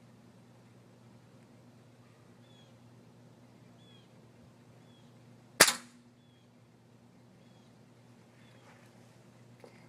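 A single sharp air gun shot cracks close by in an otherwise quiet outdoor setting. It is one loud, abrupt pop that decays quickly, with faint background noise before and after.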